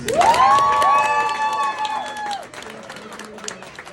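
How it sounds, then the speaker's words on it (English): An audience bursts into cheering and whoops that fade into scattered clapping, loud at first then thinning out over a few seconds. "I can give them a round of applause"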